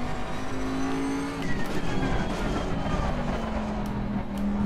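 Race car engine in Assetto Corsa Competizione revving and pulling hard through a lap, a steady loud drone with pitch sweeps as it shifts and accelerates, heard alone without talk.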